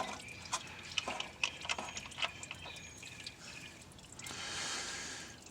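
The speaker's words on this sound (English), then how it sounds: "already have all the fluid coming out from the side" Transmission fluid on a 2008 Jaguar XJ8 dripping steadily from the side of the transmission during a drain, close-up, with scattered drips and a soft trickle.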